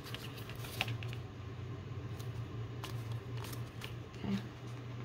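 Small scissors trimming sewing fabric for a triple pocket project: faint, close snips and rustling handling noises scattered over a steady low hum.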